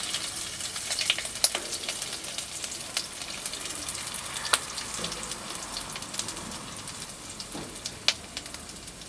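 Crushed ginger fries in hot oil in a pan, giving a continuous crackling sizzle with scattered sharp pops, steady and close throughout.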